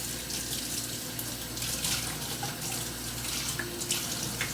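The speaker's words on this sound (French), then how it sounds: "Je vais rincer les ciboules et puis je vais les couper." Tap water runs steadily into a kitchen sink while green onions are rinsed under it, a continuous close splashing flow with slight changes in texture as the stalks move through the stream.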